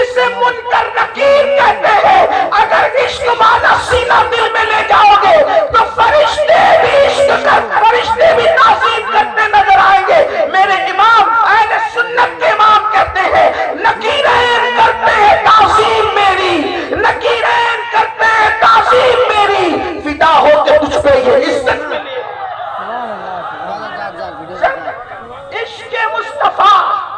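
A crowd chants slogans in unison during a religious speech on love of the Prophet, loud and rhythmic with many overlapping voices, then fades into quieter murmuring toward the end.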